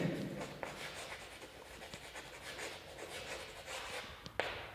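Handwriting on paper, steady soft scratching strokes close by with a few light taps, under quiet conditions without talk.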